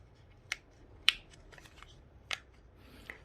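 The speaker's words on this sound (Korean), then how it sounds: "끼우실 때 똑 소리 날 때까지 끼워 주셔야 나중에 빠지지가 않습니다." A paper cube being assembled gives off a few crisp, sharp clicks spaced apart as paper pieces snap into their slots, each one short and close up against a quiet background.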